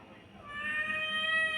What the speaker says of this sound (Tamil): என்னன்னு தெரியல, பூனைக்குட்டி கத்துது.